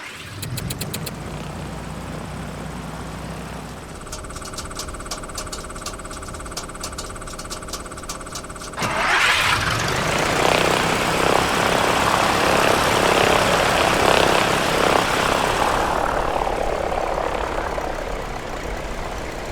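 A simulated PA-38 Tomahawk piston engine cranks with a rapid starter whine and stuttering pulses, then catches into a loud, steady propeller roar that holds for the remaining ten seconds, with no one speaking.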